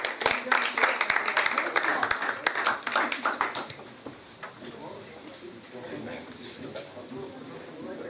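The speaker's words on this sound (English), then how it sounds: "So round of applause, please, for Martin Purcell" An audience applauds a speaker at a blockchain event, with loud dense clapping for about four seconds that then drops away, leaving a quieter room with scattered murmurs and faint talk.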